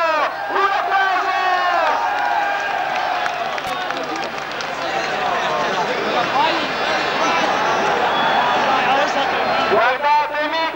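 Crowd clapping and cheering for a rally winner's lap of honour at the 1989 Motor Show in Bologna, a continuous wash of applause and shouts under an excited commentator's voice, loud and sustained throughout.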